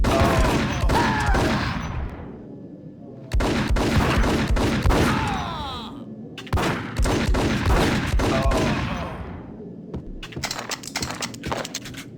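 Gunfire in the 2001 shooter Max Payne: loud bursts of rapid shots in three clusters separated by short pauses, with sharp crackling impacts and debris, up close and dense, and no speech.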